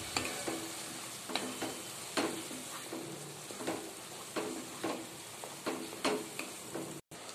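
Spices being stirred in a pan while tomato chutney cooks, with repeated scraping strokes of a spoon over a steady sizzle, fairly close and moderate in level, with no one talking.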